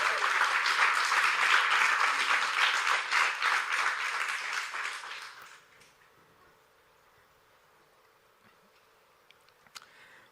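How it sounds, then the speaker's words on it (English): An audience at a Bitcoin conference keynote breaks into a burst of loud, dense applause that fades away after about five seconds, leaving a quiet room with a few faint small sounds. "Round of applause for Napoleon."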